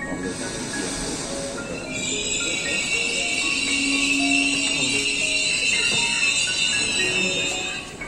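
A train rolls into a station, its wheels squealing in long, high, steady tones. The rumble is loud and close throughout and swells midway as the cars pass.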